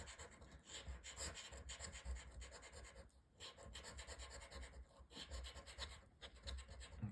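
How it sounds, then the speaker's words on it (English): A £5 scratch card is scraped, giving close, faint, rapid rasping strokes in a steady back-and-forth rhythm with brief pauses between bursts. No talking. "If you haven't got 2 in a row, there's no point of carrying on scratching."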